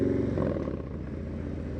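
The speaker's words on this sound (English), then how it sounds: "I'm gonna pay attention to this exhaust." A motorcycle fitted with a Vance & Hines 2:1 upsweep exhaust idles with a deep, steady rumbling burble, close and continuous throughout, with no talking.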